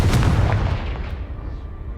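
A Confringo blasting spell in Hogwarts Legacy explodes with one loud, close, heavy boom that rumbles and fades over about two seconds.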